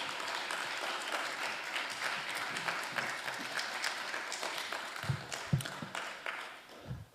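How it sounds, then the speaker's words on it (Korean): A congregation at a Thursday worship service in Seoul claps to welcome a pastor, sustained applause from a roomful of people that thins out toward the end with a few closer claps. "우리 보내주신 하나님께 감사의 박수로 맞이하도록 하겠습니다"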